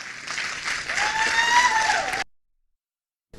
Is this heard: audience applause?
yes